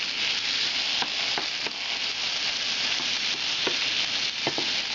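Potatoes fry steadily in a small deep fryer, a dense, constant bubbling sizzle with a few sharp pops and crackles scattered through it, loud and close with no voices.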